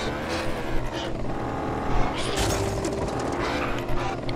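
Tuk-tuk engine from Just Cause 2 multiplayer, lined up for a race, running steadily with a buzzing drone and occasional rises in revs, loud and continuous with other vehicle noise around it.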